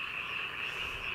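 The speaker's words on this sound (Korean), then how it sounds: "그리고 개구리 소리도 들리고" Frogs croak in a continuous, dense chorus across countryside fields at night, a steady high trilling with no voices present.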